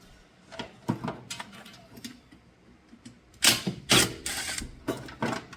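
A wrench ratchets on a motor mount bolt of a 1970 Plymouth Satellite during engine removal for an LS swap, producing scattered metallic clicks and clacks that grow into a louder cluster of sharp ratcheting bursts.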